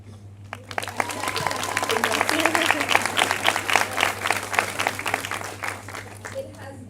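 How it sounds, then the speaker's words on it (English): First-year medical students clapping at an MBBS pinning ceremony in a hall, applause building from sparse claps into a full crowd ovation, then thinning toward the end over a steady low hum, with a few voices mixed in. "Give yourself a round of applause for making it to the end of the first year."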